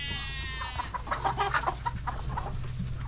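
Hens and roosters clucking close by, a run of short, irregular clucks and squawks over a steady low background hum.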